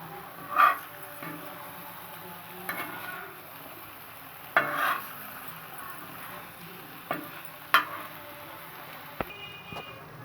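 Spicy kaleji (liver) is stirred on a hot tawa: a spatula scrapes in a few separate, fairly loud strokes over a quiet, steady low sizzle, with no talking.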